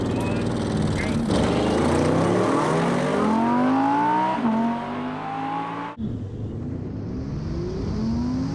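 A 2020 Audi RS6 Avant with all-wheel drive accelerates hard in a drag race, its engine note climbing through repeated gear changes in a loud close roar before cutting off abruptly, with a voice shouting over it.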